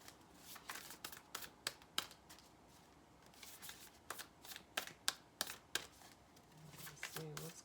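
Large oracle cards are shuffled in a steady run of crisp riffles and taps, quiet and close, with a faint low hum near the end.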